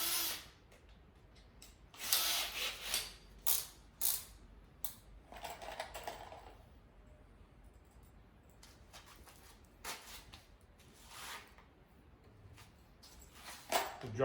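Screws driven by a power drill into a DIY wooden outdoor patio chair, heard as several short, fairly quiet bursts of motor whir with pauses between them and no talking.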